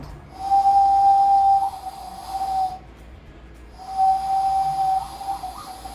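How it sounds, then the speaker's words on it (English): A hand flute made by blowing into cupped hands gives two sustained, breathy whistled notes with a short pause between them, close and fairly loud with no other sound around them. "the hand flute, which is another musical instrument that you use both your hands and you blow into your hands, making a whistling sound"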